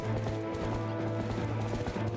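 Horse hooves clip-clop steadily in The Legend of Zelda: Twilight Princess HD, a quick, even rhythm of soft thuds over a continuous droning game soundtrack.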